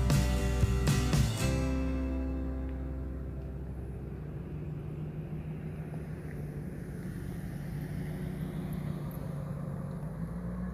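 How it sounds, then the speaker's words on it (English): A car rolls past at a lakeside campground, a steady low engine rumble that starts louder and fades off into a broad, even hum of wind and distance, with no talk over it. "This car is going to scare him away."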